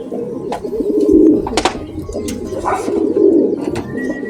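Racing pigeons coo in repeated low, throaty rolls, close and fairly loud, with faint chirps and rustling in between; no one speaks.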